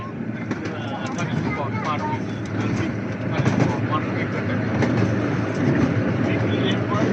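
The Bickington Steam Railway train running along the track, a steady rumbling rattle with faint rhythmic clicking, loud and close throughout, while people talk over it.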